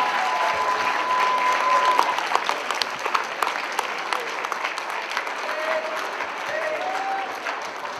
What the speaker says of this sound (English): please give me a round of applause for Vicki Almond.